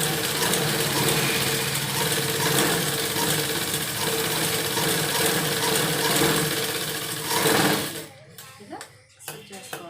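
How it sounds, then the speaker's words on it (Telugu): A sewing machine stitching the waist of dress pants runs in a steady, close, mid-pitched whir for about eight seconds, then stops, leaving a few quieter handling sounds. "ఇలా స్టిచ్ చేసుకోవాలి"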